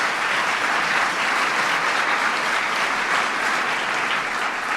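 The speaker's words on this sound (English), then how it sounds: "please give Regina a big round of applause" A large audience at a science and innovation event gives a sustained, dense round of applause, loud and steady throughout with no voices on top.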